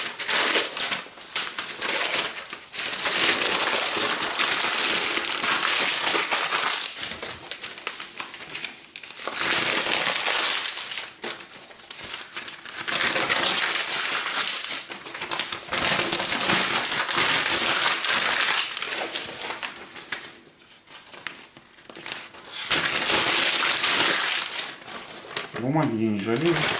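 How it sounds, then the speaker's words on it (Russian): Paper is crumpled by hand and piled over wood in the bottom of a home fireplace, a close, dense crackling and crinkling in repeated bursts with short pauses, while someone talks throughout. "Сверху на них накидать бумаги."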